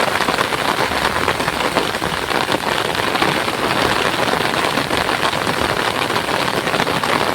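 Heavy rain pours down steadily and loudly, a dense unbroken hiss of drops on surfaces with no pauses. A faint engine hum may sit underneath the downpour.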